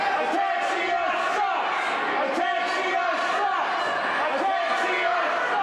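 A wrestling crowd at a New York Championship Wrestling show boos and shouts in a continuous, loud roar, with a commentator talking over it.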